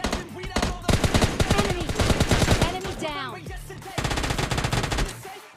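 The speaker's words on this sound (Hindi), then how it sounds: "अब यहाँ पर नीचे फायरिंग की आवाज़ आ रही थी" Rapid bursts of automatic gunfire from below the player in the battle royale game PUBG Mobile Lite, loud, dense and nearly continuous, with several weapons overlapping and a short lull before firing resumes.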